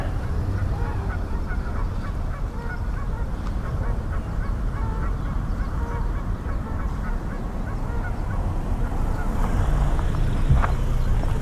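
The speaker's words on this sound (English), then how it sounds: "Sound of geese." Geese honk repeatedly and excitedly in the Papago Park area, a busy overlapping chorus of calls over steady outdoor ambience, growing slightly louder toward the end.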